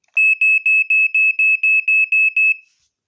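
A vintage smoke alarm under test sounds ten sharp, evenly spaced high-pitched beeps in steady rhythm, loud and close, followed by silence.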